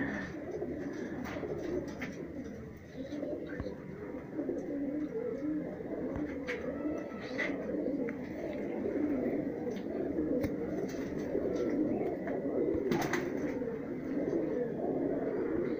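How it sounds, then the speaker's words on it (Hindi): Small, soft-bodied, long-beaked high-flyer pigeons coo in Rajsamand, Rajasthan, repeated low throaty calls at close range over a murmuring background, with faint talk at times. "छोटे साइज़ के मुलायम बदन के और लंबी चोच के ये कबूतर है"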